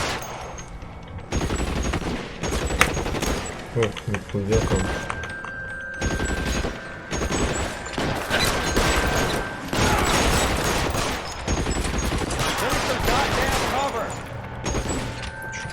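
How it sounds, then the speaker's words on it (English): Sustained heavy gunfire in the game L.A. Noire, dense fusillade bursts and machine-gun rattles continuing loudly throughout, with mechanical clatter and a voice briefly speaking over the shooting. "Что-то они из тяжелого стреляют"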